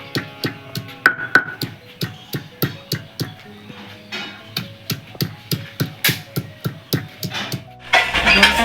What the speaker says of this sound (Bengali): রসুনগুলো থেঁতে করে নেব সব কটা।